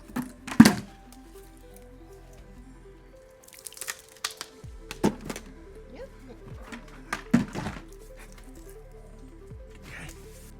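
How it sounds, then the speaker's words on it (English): Twenty kilos of ice go into a cold plunge tub: a few scattered thunks and crunching impacts sound up close over quiet background, separated by several seconds. "I'm going to add 20 kilos of ice."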